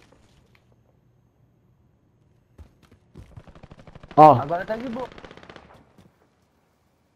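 Gunfire in a shooting video game, heard as a quick burst of rapid automatic shots overlapping a voice after a few near-silent seconds.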